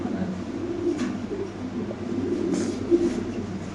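Danish racing pigeons at a pigeon sale cooing, soft low throaty coos repeating close by over a faint background murmur, with no talking.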